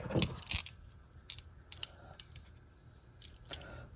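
A screw being loosened on a Kahler Flyer tremolo from a Gibson V guitar, faint close-up metallic clicks and scrapes of a small tool, a few irregular ticks spread over a quiet background.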